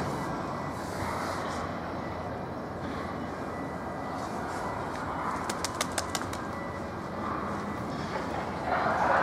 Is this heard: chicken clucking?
no